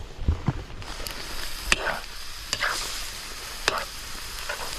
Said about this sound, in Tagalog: halo-haloin lang para po magsama-sama ang karne at saka ubod